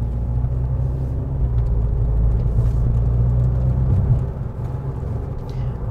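Interior road and engine noise of a Volkswagen Scirocco GTS driving at low city speed, a steady deep rumble and whir from the cabin that eases slightly near the end, with no talking.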